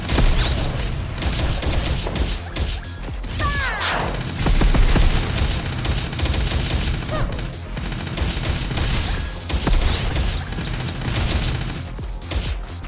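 Rapid gunfire rattles through a hectic Risk of Rain 2 fight, dense repeated shots layered with effects and bursts, loud and continuous across the whole stretch.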